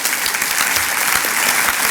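Loud, close applause from a breakfast audience, a dense steady wash of clapping hands that runs unbroken throughout.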